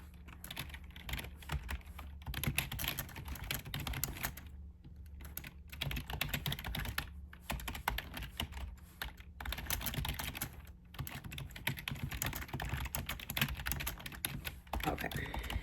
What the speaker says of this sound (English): I thought I could type and talk, but now I'm typing the words and I'm talking to y'all.